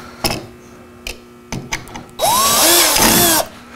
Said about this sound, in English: take the same drill bit that you use to drill these holes and just ream these out a little bit